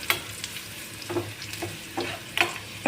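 Spoon scraping and stirring red chili powder through oil in a hot cooking pan, a soft sizzle under intermittent scraping strokes and light clinks, close and fairly quiet.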